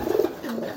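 A pigeon gives a short low coo, close and clear, lasting under a second with a soft throaty warble and faint background noise.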